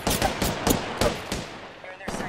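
Rapid gunfire in the shooter Apex Legends, a string of sharp close shots in quick bursts with brief gaps, then another shot near the end, loud and punchy.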